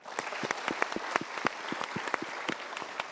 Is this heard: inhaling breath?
no